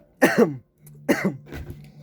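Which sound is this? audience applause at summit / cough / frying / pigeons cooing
cough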